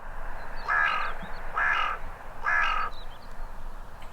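A crow gives three loud, harsh caws at even intervals, each about half a second long, over steady outdoor background noise.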